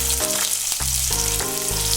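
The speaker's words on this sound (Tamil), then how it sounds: "பட்டை, கிராம்பு, ஏலக்காய், அப்புறமேல ஒரு அன்னாச்சி பூ, எல்லாத்தையும் போட்டு தாளிச்சிடணும்." Whole cinnamon, cloves, cardamom and star anise sizzle steadily in hot oil, a loud, close, continuous frying hiss with no talking.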